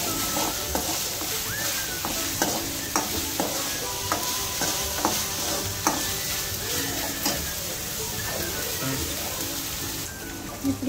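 Ginger fries in hot oil for a chicken curry, sizzling steadily while a spoon stirs it with scattered scrapes and taps against the pan, close and continuous.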